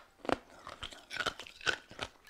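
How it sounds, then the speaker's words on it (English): Ice cubes crunched between teeth close to the microphone: a series of sharp, brittle crunches and bites in an irregular rhythm, loud and alone with no talking. "I did not mean to crunch ice."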